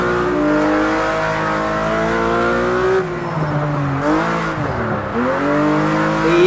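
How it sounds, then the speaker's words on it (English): Porsche GT3 RS in Project Cars 2 or Assetto Corsa drifting at high speed, a loud, steady, high-revving engine whine with pitch swoops and dips as the rear tires squeal and fight for grip, with no talk. "Let's try some high speed drifting. I can feel the rear tires fighting for grip there."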